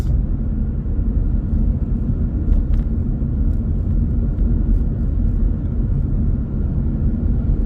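A car drives along an island road in the Cayman Islands at sunset, giving a steady, even low rumble of engine and tyre noise throughout, with no talking.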